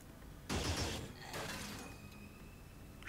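A burst of rapid gunfire from the video game Xenonauts, followed by a second shorter volley and mechanical clatter, fairly quiet.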